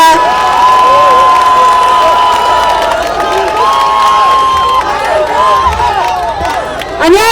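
A crowd at an outdoor campaign rally by Balsan Station for a Gangseo district mayoral candidate cheers and shouts loudly close by, with whoops and clapping mixed in, sustained across the moment.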